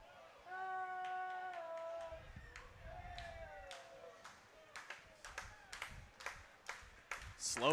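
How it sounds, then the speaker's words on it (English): Slow, spaced clapping rises from a baseball crowd at a St. Joseph Tenderloins vs Carroll Merchants game, sharp claps gradually quickening and swelling over murmur, with an announcer talking early on. "Slow clap starts again."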